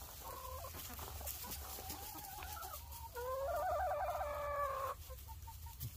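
A chicken clucks and calls close by in a series of short squawks, rising into a louder run of excited vocalizations over a low background rumble, with no talking.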